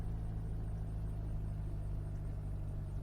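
Helicopter engine in the video game Unturned as it comes in to land: a steady, loud, low droning rumble that holds without a break.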